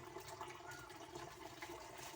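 Water runs steadily from a home water purifier tap, a soft continuous trickle and splash close by with no talking.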